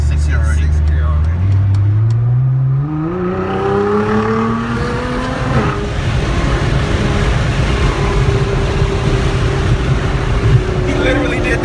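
Nissan GT-R with an automatic gearbox accelerating hard through its gears, the engine rising loudly in pitch with each gear and then dropping at the shift. The car is heard from inside over steady road roar.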